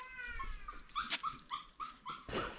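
A puppy outdoors whimpers in high, wavering cries, then breaks into a series of short sharp barks and yips, close and fairly loud, with no talk over it.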